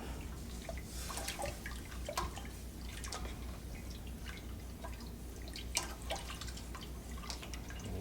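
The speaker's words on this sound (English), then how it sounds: "now that our milk is moving, I'm going to start adding our coagulant." Liquid coagulant is added into stirred, moving soy milk for homemade tofu, a faint, continuous soft dribbling and sloshing with scattered small drips, quiet and close.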